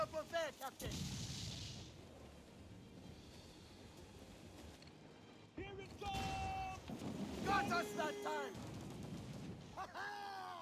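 Ship cannon fire in the video game Assassin's Creed Freedom Cry at sea, with booming blasts at the start and again in the middle amid wind and water noise, and voices calling out between shots.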